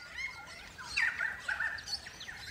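Crimson rosella parrots call in a forest, several bright chirps and whistles overlapping at moderate distance, with a louder burst of calls in the middle against a soft ambient background.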